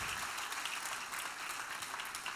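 A church congregation applauds in praise during a Spanish-language service, with dense, steady clapping that is fairly faint and distant and carries on evenly throughout.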